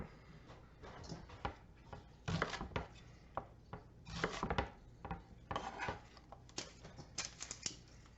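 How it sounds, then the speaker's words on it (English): A knife roughly chopping vegetables on a cutting board for pork chile verde, with quick uneven thuds and knocks coming in clustered bursts, close and fairly quiet, with no talking. "we're doing a very rough chop because we're roasting these and then pureeing everything, so just straight down the middle and cross cut"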